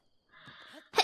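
One short, sharp sneeze bursts out loudly at the end, after a few soft breathy and voiced sounds.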